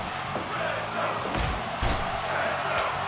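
A backyard house wrestling match: a small crowd shouts and cheers in scattered bursts, mixed with heavy thuds and slams of bodies landing nearby.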